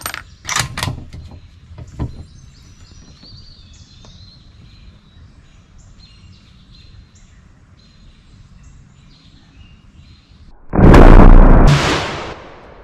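A Tikka T3x rifle fires a custom hand-loaded 150 grain round outdoors: one loud, sharp report near the end with a brief decaying tail, preceded by quieter mechanical clicks and handling noises in an otherwise calm setting.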